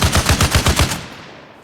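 A .50 caliber machine gun fires in the Arma Reforger video game, a quick burst of about seven heavy, evenly spaced shots followed by a fading echo.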